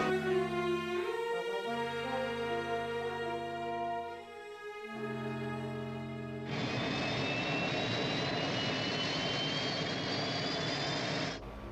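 Eagle spacecraft lifting off in Space 1999, a rising tonal engine whine that swells, then a loud roaring rush of thrust takes over and holds steady before cutting off.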